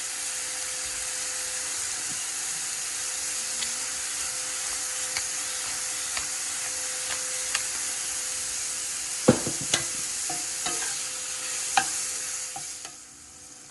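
Mushrooms with salt and pepper sauté in a hot pan, a steady bright sizzle hissing throughout with occasional scraping taps of a spatula stirring, close and continuous until the hiss fades at the end.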